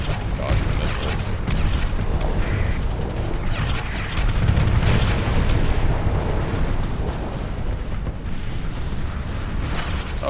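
Missiles explode in a combat video game, a dense, continuous rumble of blasts and crashing booms that stays loud throughout, with a voice faintly underneath.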